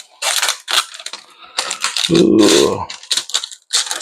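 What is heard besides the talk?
protective film peeled off GPU backplate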